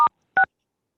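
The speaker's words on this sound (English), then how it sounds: "we can hear your phone beeping" Two short electronic telephone keypad tones during a conference call, clean and close, the second following a beat after the first, then silence.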